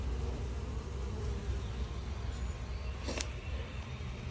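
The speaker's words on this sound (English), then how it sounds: "with this big, massive hole of bees" Dense, continuous buzzing of many bees inside a wall, muffled and steady, with a brief sharp click partway through.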